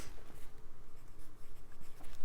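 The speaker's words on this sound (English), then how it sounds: "let me just write on them" A pen writes on paper in a junk journal envelope folio, a soft close scratching of short strokes with no talk.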